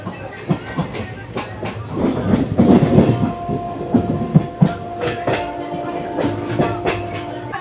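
A passenger train bound for Maharajpur in Jharkhand rumbles along from inside a carriage, with close, rhythmic clickety-clack wheel beats, rattling and a faint sustained tone over the steady rolling noise.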